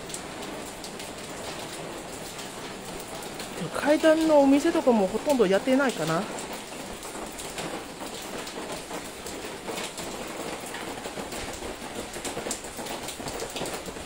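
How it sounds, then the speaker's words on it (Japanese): Rain falling on the stairway streets of Jiufen, Taiwan, a steady hiss throughout under a person talking, with a brief louder patch midway. "雨、怖い怖い。"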